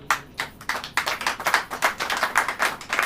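A church congregation claps together in a steady rhythmic beat, sharp hand claps repeating evenly for several seconds, fairly close and with no talking over them.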